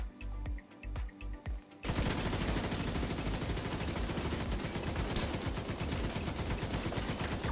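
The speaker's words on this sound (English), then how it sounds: "So now we got to shoot right away." An LMG machine gun in The Division 2 opens up after a few scattered shots, then fires in one long, rapid, continuous burst that stays loud and steady to the end.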